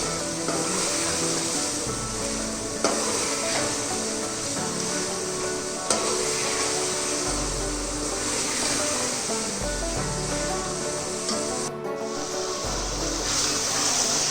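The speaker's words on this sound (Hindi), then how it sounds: "चिकन हमारा फ्राई हो रहा है।" A kilo of chicken fries in a pan, making a loud, continuous sizzle close by, with a few sharp clanks from the pan and no speech.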